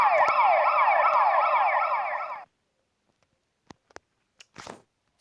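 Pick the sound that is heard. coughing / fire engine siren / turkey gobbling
fire engine siren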